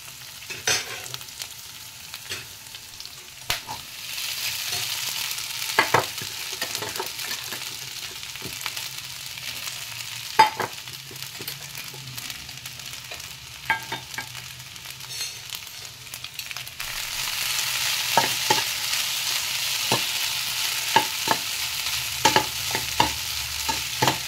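Sabudana stirred with boiled potatoes and curry leaves in a pan for fasting khichdi, a low steady hiss overlaid by scattered sharp clinks and scrapes of the spoon, louder in the later stretch, with no talk.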